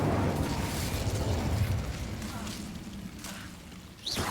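Incendio fire spell cast in Hogwarts Legacy, a loud whooshing roar of flame that fades gradually over several seconds, with a brief sharp burst near the end.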